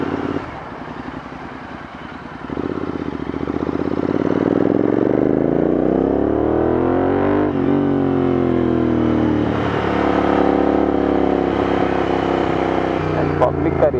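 A Royal Enfield Interceptor 650 fitted with an aftermarket Red Rooster exhaust revs up loud and close, its deep engine note climbing and falling through several sustained pulls with crackling at the end.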